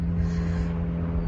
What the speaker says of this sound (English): that extremely loud airplane